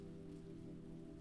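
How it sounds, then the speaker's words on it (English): Gentle rain patters steadily on the surface outside a castle window, soft and even with no pauses for its brief length. "the rain intensifies for a moment, then eases again into a gentle patter"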